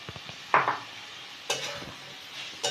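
Pieces of fried yam being stirred in a pan for a yam curry, with a few distinct scraping strokes separated by short pauses over a low background hiss.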